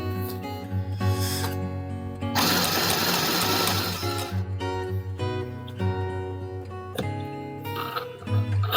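Motor-driven stitching of an Aldi mini sewing machine sewing through fabric, a steady mechanical whirring chatter in several bursts, loudest and densest in the middle stretch, with brief pauses between runs; no talking.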